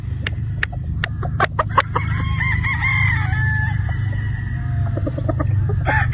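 A Yellow-legged Sweater gamefowl rooster crows once, loud and close, in a long drawn-out call. Sharp clucks and clicks come before it, over a steady low background hum.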